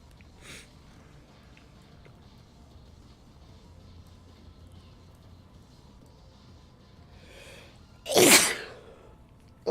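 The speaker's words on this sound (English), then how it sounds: "I am sneezing a bunch." A person sneezes, one sharp, loud sneeze bursting out near the end after a long quiet stretch with only faint background noise and a couple of softer breathy sounds.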